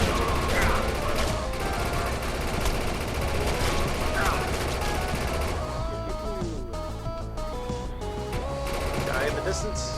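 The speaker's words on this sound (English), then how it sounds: "I've got a laser minigun" Laser minigun fire in the shooter game Defiance: sustained, rapid bursts of loud weapon fire with crashing impacts and electronic whines. A voice talks over the fire in places.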